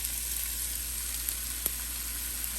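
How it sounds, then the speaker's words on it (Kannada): Two chopped medium onions sizzle in hot oil for a North Indian chicken gravy, a constant close hiss with a faint tick or two of stirring. "ಸ್ವಲ್ಪ ಬಿಸಿ ಎಣ್ಣೆಯಲ್ಲಿ ಒಂಚೂರು ಫ್ರೈ ಆಗಲಿ"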